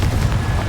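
A Confringo explosion spell goes off in the video game Hogwarts Legacy: a short, loud, rumbling blast with a heavy low boom that fills the whole moment.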